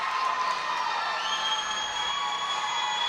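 Large crowd cheering and roaring throughout a college gymnastics meet at Reynolds Coliseum, a dense steady wash of arena noise with no single voice standing out.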